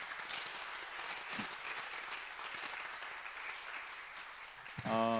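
A church congregation claps steadily in warm, sustained applause for its youth ministry staff, even and moderately distant. A voice begins speaking just as the clapping ends.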